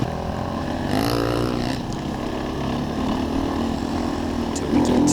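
A trail motorbike engine drones steadily while riding an uphill trail, a continuous close buzzing hum with slight rises in revs, under rushing wind noise.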